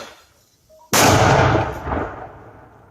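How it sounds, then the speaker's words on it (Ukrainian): A single loud mortar shot near Bakhmut booms suddenly after near silence, followed by a rumbling echo that slowly fades. "Перший пішов обстріл."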